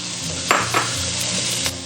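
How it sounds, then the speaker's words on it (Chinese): Ginger, garlic, onion and green and red peppers sizzle steadily in a hot wok while a spatula scrapes and clacks against the metal a few times as the vegetables are stirred. "先下入姜蒜给它炒香"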